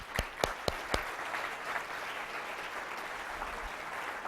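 Audience applause begins with a few loud, sharp individual claps up close, then settles into a steady, even wash of clapping from the crowd.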